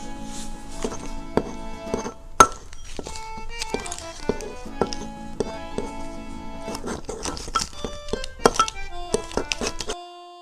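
A fork mixes a microwave egg with blue cheese in a small cup, producing close, crisp clinks and taps in an irregular rhythm with some faint ringing tones behind, then stopping abruptly.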